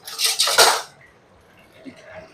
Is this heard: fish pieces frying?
yes